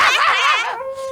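A dog gives a single drawn-out, whining bark that trails into a thinner yelp, close and fairly loud, alone with no talk.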